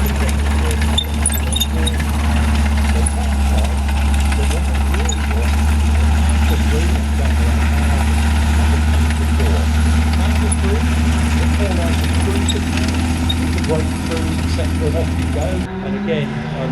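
A preserved German military vehicle engine runs steadily at idle during an outdoor display, a loud constant low rumble throughout that shifts slightly near the end.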